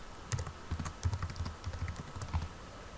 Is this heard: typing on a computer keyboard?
yes